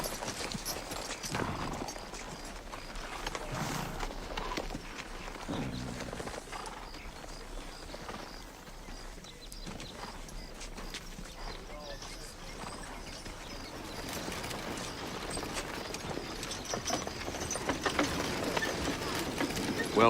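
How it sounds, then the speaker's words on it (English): Horses' hooves clip-clop in a Wild West setting, a steady, moderately loud clatter under ambient noise with speech-like sounds mixed in. "Mr. Redding, here are your horses."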